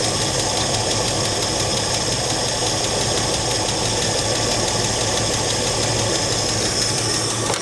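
An old vehicle's engine, running again after nearly fifteen years off the road, drones loudly and steadily with a rough, knocking mechanical texture, heard close and constant throughout without clear rev changes.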